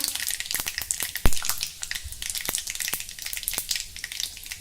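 Mustard, cumin and fenugreek seeds crackling in hot oil, a loud close sizzle with sharp pops and spits throughout and one strong burst early on, without anyone talking.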